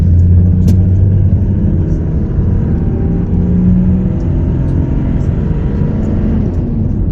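A car drives along a road, producing a steady, loud engine rumble and tyre whir throughout that is heard from inside the vehicle.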